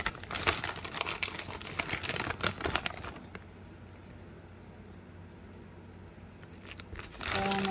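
A plastic bag of thick-cut shredded cheese crinkles and rustles loudly up close for about three seconds, followed by a quieter stretch with a little more crinkling near the end.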